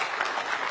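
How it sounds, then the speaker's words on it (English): Audience applause at a civic panel discussion on stormwater management, a steady dense wash of clapping filling a brief moment without a break. "Can we get a round of applause for Father Taylor and Mary Miles?"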